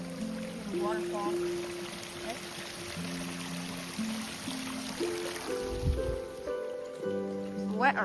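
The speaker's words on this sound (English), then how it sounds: "Waterfall." A waterfall beside a trail to Montecito Hot Springs in Los Padres National Forest gives a steady, dense rush of falling water at moderate distance, with voices talking over it.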